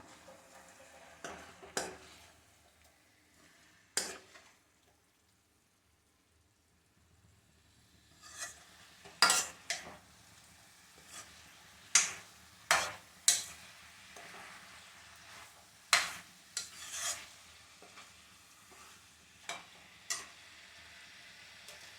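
Chicken thokku mixture is stirred in a pan: sparse, sharp scraping and tapping strokes of a spoon against metal, quiet at first, then a pause, then a denser run of distinct clinks over a faint frying hiss.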